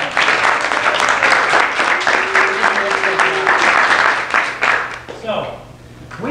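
An audience claps for three startup teams at a demo day, sustained loud applause with some cheering that fades out near the end as a voice begins speaking.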